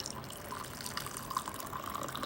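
Boiling water poured from a kettle over a green tea bag, a soft, faint, continuous trickle and splash of liquid heard close and alone.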